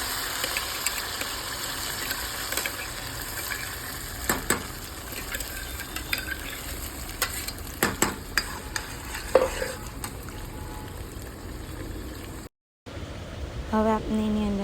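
Cumin seeds temper in hot oil with a steady sizzle while a spoon stirs in the pan, making intermittent clinks and scrapes. The sound drops out briefly near the end before the frying resumes.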